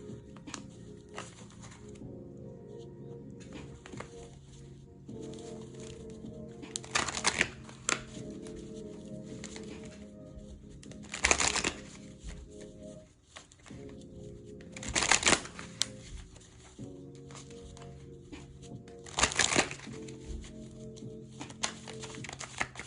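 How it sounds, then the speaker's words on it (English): A deck of cards is shuffled quietly and close by. Soft riffling bursts return every few seconds, with quieter handling and patting sounds between them. "let's get a few cards from my deck"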